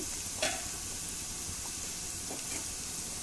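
Onion pieces fry in a pan for a raw banana curry, a steady soft sizzle and hiss with a few faint stirring scrapes, quiet and close, no voices.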